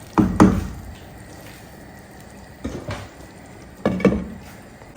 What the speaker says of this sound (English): This amount of salt is okay, and I'll stir everything in.